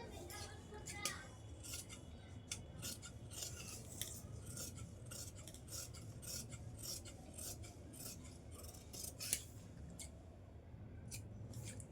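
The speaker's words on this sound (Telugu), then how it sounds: "ఇక్కడ కూడా నీట్గా ఇలా కట్ చేసేసుకోండి హ్యాండ్స్." Scissors snipping through blouse fabric on a cutting table, a quick series of crisp, close cuts over a low background hum.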